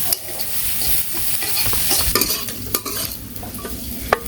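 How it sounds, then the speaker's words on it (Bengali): Small puti fish fry in hot oil in a pan, giving a continuous close sizzle broken by sharp crackles and a few clicks from the stirring utensil. "পুঁটি মাছটা হয়ে গেলো ভাজা"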